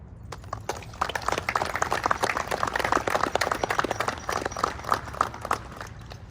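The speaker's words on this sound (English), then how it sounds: "please join me in a round of applause to show our deep appreciation for Benjamin White, class of 2004" An audience at a school Veterans Day program gives a sustained round of applause in tribute to an honoree, the dense, steady clapping building after a moment and holding fairly loud for several seconds before easing slightly.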